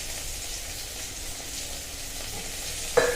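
Onion tossed into half-fried potatoes in a pan makes a steady, moderate hiss of frying oil, close and even throughout, ending with a brief utensil clack.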